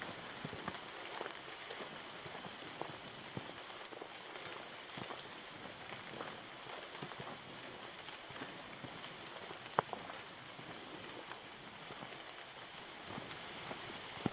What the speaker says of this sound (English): It is raining today, which I like. I always enjoy the rain